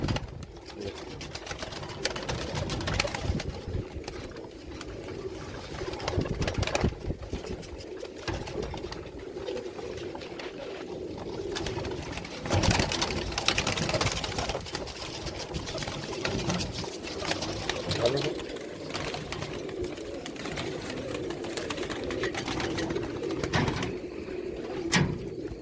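Fancy pigeons coo in a loft, with soft throaty calls and rustling over a steady background hum, the birds close by and no talk.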